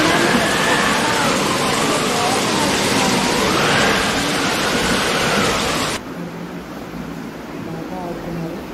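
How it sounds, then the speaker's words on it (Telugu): Water pours down a waterfall in a steady, broad rushing roar that fills the first six seconds, then continues at a lower, softer level. "ఇదిగోండి ఇక్కడ వాటర్ ఫాల్స్లో పైకి నుంచి కిందకి నీళ్ళు పడుతున్నాయి"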